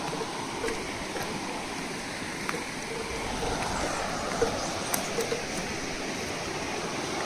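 Steady rushing river water runs throughout, a continuous broadband flow with a few faint clicks and knocks on top, fairly close and even in loudness.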